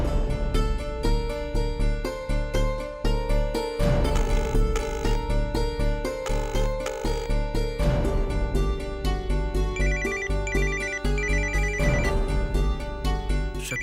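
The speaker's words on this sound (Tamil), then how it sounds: "சக்தி, நீ அண்ணா கால் பண்ணு." A mobile phone plays a melodic electronic ringtone for an outgoing call, a bright, repeating tune that loops steadily throughout with no speech.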